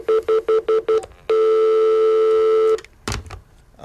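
A telephone dials for a radio call-in: five quick touch-tone beeps, then a longer sustained tone, then a short burst of line noise and clicks.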